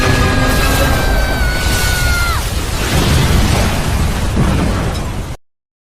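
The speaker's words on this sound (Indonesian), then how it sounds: "terjadilah ledakan yang sangat besar di tempat itu" A huge explosion in a kung fu action film roars loudly and continuously for about five seconds, with a falling tone sweeping down through the blast before it cuts off abruptly.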